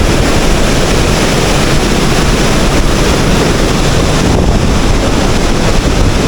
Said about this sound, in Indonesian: aliran sungai dari Citarum ini sangat deras sekali